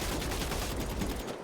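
Rapid AP pistol gunfire in Grand Theft Auto V, a dense burst of sharp shots fired in quick succession, loud and continuous, easing slightly at the end.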